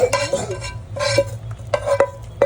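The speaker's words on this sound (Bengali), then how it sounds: "এখন আমরা এখন শুকনো মরিচ দিয়ে দিচ্ছি এগুলি আপনার ভেজে নিচ্ছি" Dried red chilies fry in oil in a pan while a spatula stirs them, making three or four bursts of close scraping and rattling over a soft sizzle.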